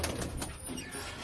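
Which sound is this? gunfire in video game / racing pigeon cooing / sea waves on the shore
racing pigeon cooing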